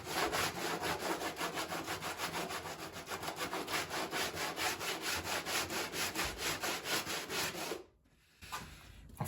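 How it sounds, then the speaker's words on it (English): Coarse sandpaper scrubs body filler on a Jeep Patriot repair, fast rhythmic back-and-forth strokes that are loud and close, stopping abruptly near the end before a faint scrape. "And then all we're doing is sanding it. You can hear the coarseness"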